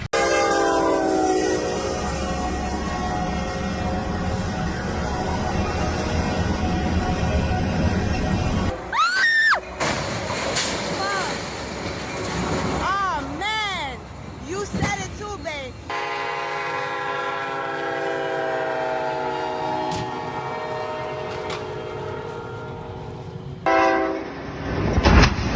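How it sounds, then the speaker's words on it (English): A train with its horn blaring approaches and strikes the cargo box of a trailer crossing the tracks, with long sustained horn blasts, rumbling wheels, abrupt crashing bursts and harsh screeching before the horn sounds again, while voices speak in places. "This train approached a trailer crossing the tracks, and moments later, it struck the cargo box, sending debris aside as the train continued forward."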